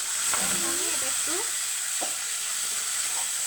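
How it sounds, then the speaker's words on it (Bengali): Blended tomato paste frying in a pan gives a steady bright sizzle, with a few scraping stir sounds from a spoon moving through it and faint background voice-like tones. "অল্প একটু নেড়ে চেড়ে নিব।"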